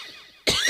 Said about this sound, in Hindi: खांसी शुरू है